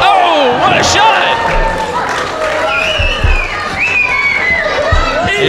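A wrestling crowd in Baldwin Park, California roars steadily at a live indie show, loud and close, with scattered claps and thuds and a commentator talking over it.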